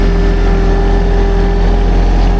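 A riding mower engine left running, steady and loud at close range, with a constant droning idle and no pauses or voices over it.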